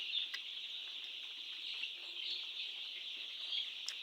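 Chickens on a poultry farm, a faint, distant flock cluck and chirp over a steady hiss, with no nearby voices.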